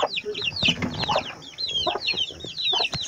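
Brahma mixed-breed chickens and chicks on a small farm cluck and cheep continuously, high peeping chicks over lower clucks, with a person talking quietly underneath.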